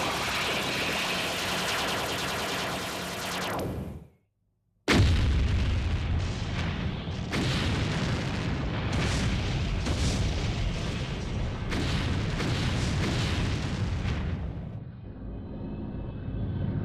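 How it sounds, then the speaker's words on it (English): Heavy cannon batteries aboard an anime spaceship fire in a dense, continuous barrage of booming blasts with rumbling roar, cut by a brief silence, then repeated thunderous volleys before fading into a lingering high hiss. "Stand by on the main batteries. Your target is dead ahead. Lock on target."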